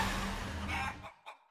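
Chickens cluck in the Guacamelee 2 video game, a loud dense burst of clucking and squawking that drops off abruptly, followed by a few faint short clucks.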